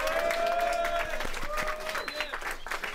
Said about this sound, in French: Faites un petit peu d'applaudissements comme ça pour Gauthier.